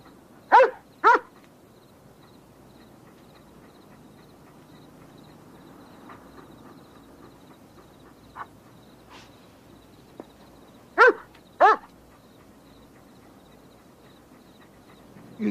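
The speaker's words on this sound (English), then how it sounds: "A dog?" A dog barks in a TV drama scene. Two sharp barks open the clip and two more come near the eleventh second, with a few fainter yips between them against a quiet room background.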